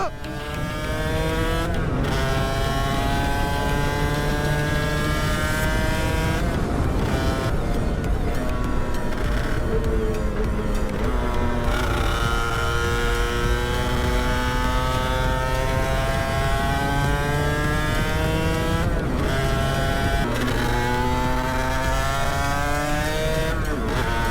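An Aprilia RS 125 two-stroke motorcycle revs loudly and continuously up through the gears, its rising and falling engine pitch steady and close throughout.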